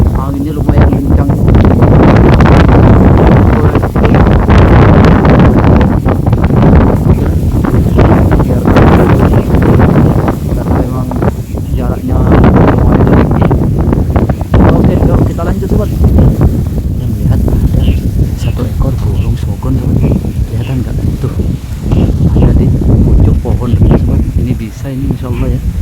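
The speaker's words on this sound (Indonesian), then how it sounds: "Anginnya lumayan kencang." Strong night wind blowing hard and steadily into the microphone for the whole stretch, a loud roaring rumble with gusty surges, while someone talks quietly over it.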